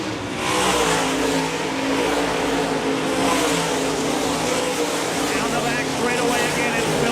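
Race cars roar around the Park Jefferson Speedway track in a USMTS event, a dense continuous engine drone with shifting pitches as cars pass, heard under a race announcer's commentary.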